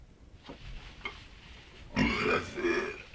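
A loud, drawn-out belch bursts in near the end, coming after a few faint, scattered sounds in a quiet room.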